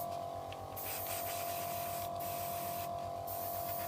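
Airbrush spray painting pre-shade and base colour onto a PG Zaku II model kit, a continuous hiss over a steady mechanical hum, with brief bursts where the spray cuts out and resumes.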